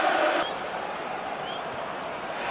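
Home supporters roar at a Newcastle versus Manchester United football match at St James' Park, a broad, continuous crowd noise that swells briefly at the start and then settles into a steady, loud din.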